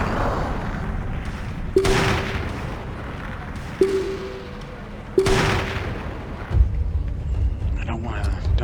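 Gunfire in a shooter video game: four sharp, spaced shots ring out over a steady background, each with a brief tonal ring after the crack.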